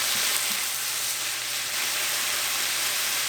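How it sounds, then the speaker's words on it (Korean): Minced garlic and chili powder stir-fry in a hot pan with a small amount of seasoning, a steady close hissing sizzle that holds level throughout with faint stirring beneath it. "연두 조금, 다진 마늘, 고춧가루 넣고 골고루 볶아주세요"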